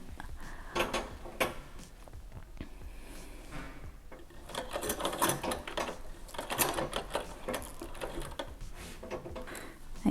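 Vintage sewing machine running in uneven stretches, with a mechanical clatter of needle and gears that speeds up and slows down over about ten seconds, fairly close and unaccompanied by speech.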